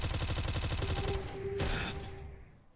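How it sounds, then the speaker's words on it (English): A machine gun in the video game Vomitoreum fires in a rapid burst of evenly spaced shots, then stops, leaving a sustained tone and a fading rumble of echo. "I actually forgot I had the machine gun."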